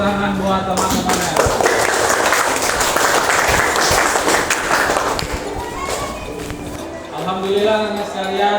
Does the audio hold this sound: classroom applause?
yes